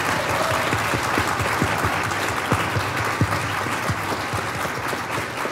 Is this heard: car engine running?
no